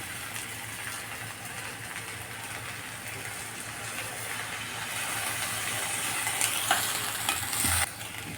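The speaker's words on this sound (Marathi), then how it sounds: "कांदा टोमॅटो थोडासा भाजून झालेला आहे. आता याच्यात आपण थोडंसं पाणी घालणार आहे." Water poured into a pan of frying onion and tomato during butter chicken preparation, a soft steady sizzle and bubbling hiss that swells slightly toward the end, quiet and alone without speech.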